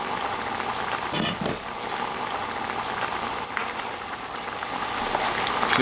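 Water for ramen bubbles at a steady rolling boil in a pot, a constant close hiss and gurgle with a couple of brief clatters near the start.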